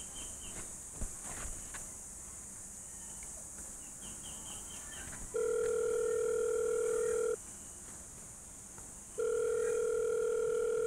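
Phone ringback tone while calling someone, two long steady beeps with a gap between them, heard over quiet background hiss.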